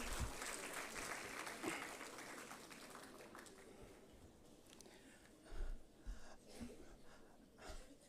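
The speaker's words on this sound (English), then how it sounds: "applause." Audience applause at a G20 University Connect event at Andhra University, a broad, fairly quiet clapping that fades away, leaving room noise with a few soft bumps and breaths.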